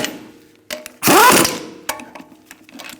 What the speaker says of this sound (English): put your lug nuts on finger tight. And we're going to snug it up.